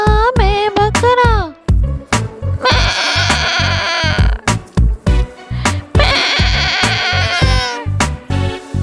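A goat bleats repeatedly over a steady rhythmic beat in a children's rhyme song, the wavering calls loud and upfront, alternating with stretches of music.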